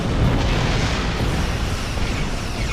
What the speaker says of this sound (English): that ship's gonna blow up right next to me and do shield damage